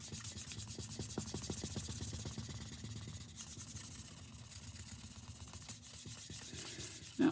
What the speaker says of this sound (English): now all this extra sanding